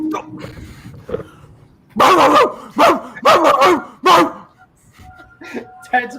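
A man barks like a dog in several loud, rough bursts, mimicking a dog's bark, with quieter talk before and after the barks.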